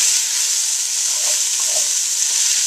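Garlic sizzles in a pot with a steady, bright hiss and soft scraping of a stir partway through, close and continuous with no voices, as part of making kosher beef stew.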